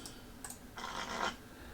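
A deck of game cards is shuffled up: a short, soft riffling burst lasting about half a second, with faint ticks before it, quiet and close.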